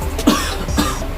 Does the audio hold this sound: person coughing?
yes